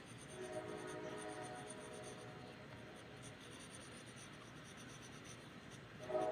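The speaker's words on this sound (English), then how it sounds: "There's the train. Hello, train." A train passes at a distance, a steady broad rumble with faint tonal whine lasting throughout, swelling slightly louder near the end, recorded close to a phone microphone with no talk.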